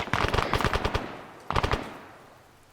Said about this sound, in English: There's fire from the left.